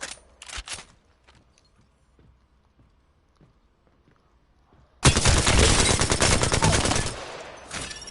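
The Alternator submachine gun in Apex Legends fires in a sustained rapid burst of loud, dense shots lasting about three seconds, after a quiet stretch with scattered soft clicks and steps.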